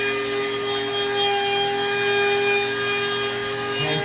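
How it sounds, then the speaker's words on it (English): Hand sanding wooden bookends: a loud, continuous abrasive scrubbing of sandpaper on wood, close up and unbroken for a few seconds. "Hand sand everything, get all the black marks off."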